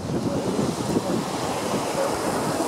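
Following seas and strong wind on a sailboat in fog in the Strait of Juan de Fuca: steady broadband wash of waves and wind buffeting the microphone, continuous and close, with no talking.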